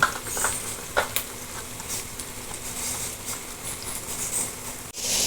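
Spoon stirring egg roast with tomatoes and onions in a pan: soft pattering and scraping with a light sizzle, scattered clicks and taps throughout.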